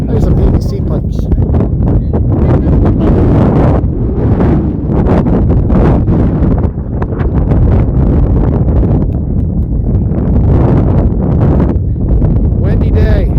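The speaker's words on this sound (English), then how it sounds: "Windy day" Heavy wind roars continuously against the microphone at an outdoor flag football game in DuPont, Washington, loud and unbroken, with a voice talking underneath.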